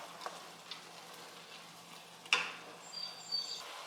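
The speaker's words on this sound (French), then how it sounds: "on a fait revenir nos légumes à feu moyen" Vegetables sautéing over medium heat in a pan while making peanut sauce, a faint, soft, steady sizzle with a few small pops and crackles.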